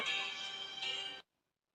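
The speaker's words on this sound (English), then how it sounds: "It's ringing." A phone ringtone sounds as an outgoing call rings, a bright tonal burst of a little over a second that cuts off abruptly into silence.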